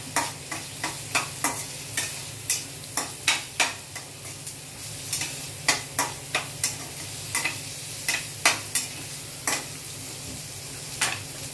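Spices fry and get stirred in a pan until reddish for dhaba-style chicken curry. A spatula scrapes in a quick, regular rhythm about twice a second over a constant close sizzle, with no voices.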